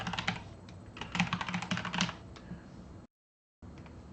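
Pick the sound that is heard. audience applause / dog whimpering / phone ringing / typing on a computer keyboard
typing on a computer keyboard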